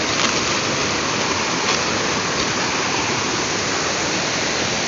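Steady, full-bodied rush of flowing river water, constant and close, with no voices or other sounds breaking through.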